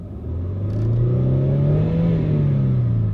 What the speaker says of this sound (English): But now as you can hear when I rev it up under the engine